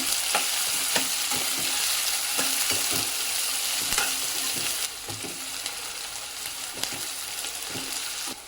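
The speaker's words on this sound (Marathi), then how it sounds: "आता यामध्ये पाव चमचा हिंग चिरलेला कांदा छान परतून घ्यायचं" Chopped onion sizzles steadily in hot oil with a pinch of asafoetida, part of a traditional Maharashtrian Bhogi vegetable dish. A spoon scrapes and stirs the pan in regular strokes over a continuous loud frying hiss, and no one speaks.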